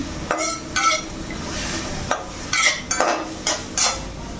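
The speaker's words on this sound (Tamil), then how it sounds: "இந்த காய்கறியெல்லாம் நன்றாக திரட்டி கொள்ளவும்." Leftover vegetables for koottu are stirred in a pan, with a spoon scraping and clinking against the metal in short, uneven strokes over a low background hiss.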